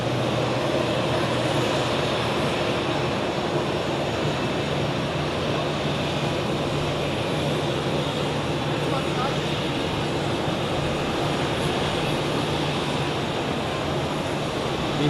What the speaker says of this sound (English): here we have an Edelweiss A320, which just got pushed back from the gate and is now getting ready for departure